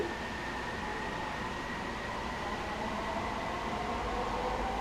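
JFK AirTrain rolling between airport terminals, a steady broadband rumble and hiss of the moving car with a faint whine, continuous throughout.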